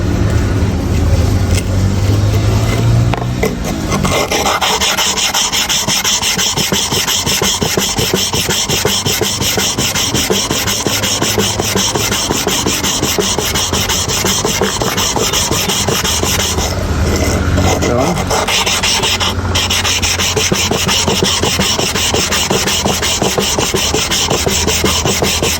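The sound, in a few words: clipper blade sharpened on sharpening stone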